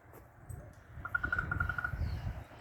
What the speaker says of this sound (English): I think those blackbirds up in that tree there.